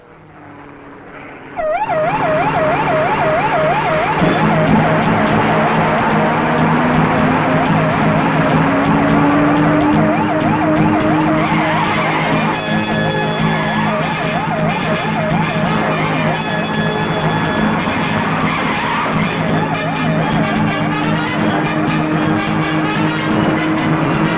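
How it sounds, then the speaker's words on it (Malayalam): A car chase from a Malayalam comedy film, with a wailing police-style siren over roaring engines. The sound is loud and continuous after a quiet opening second, with no talk. "car chase"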